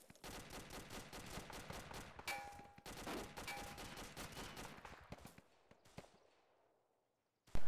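Heavy gunfire in a military combat video game, dense bursts of rapid shots with metallic clangs filling the first five seconds, then thinning into scattered reports and a fading tail before a final sharp burst.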